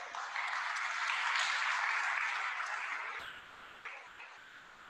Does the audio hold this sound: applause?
yes